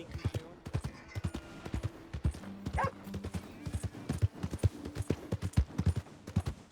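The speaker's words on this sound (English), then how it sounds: "Shouldn't be cantering through town, that's not wise." A horse canters through town in Red Dead Redemption 2, hooves clip-clopping in a steady rhythmic beat close by, with brief voices and a whinny under the hoofbeats.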